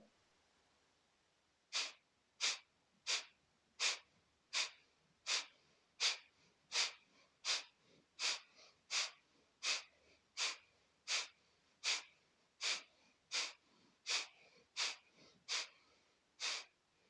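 Kapalabhati yoga breathing: a long series of about twenty sharp, forceful nasal exhalations in a steady, even rhythm, close and clear against quiet.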